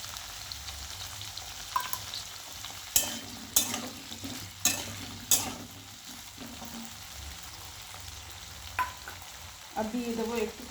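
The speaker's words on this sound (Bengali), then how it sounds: "প্রথমে দেখো, আমি আলুগুলোকে ভালো করে ভেজে নিচ্ছি।" Salted potatoes fry in a pan with a constant close sizzle, broken by several sharp spatula scrapes and knocks against the pan.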